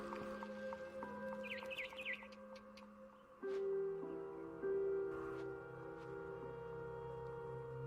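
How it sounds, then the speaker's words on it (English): A barn swallow chirps outside a window in the video game What Remains of Edith Finch, a few quick high twittering bursts early on over a steady tonal music bed, fairly faint. "Then I heard chirping outside my window."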